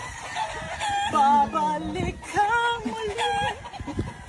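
A rooster crows nearby, a drawn-out warbling call followed by a second shorter crow, with soft clucking and light background noise.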